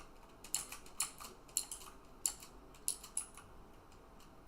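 Computer keyboard keys clatter in short, uneven bursts of sharp clicks, close and fairly loud, while Minecraft is being played, with no talk over them.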